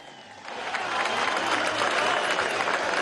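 Crowd applause at a large workers' march of Pdvsa oil employees in Venezuela, a broad wash of clapping and cheering that swells after a quieter start and stays steady and loud to the end.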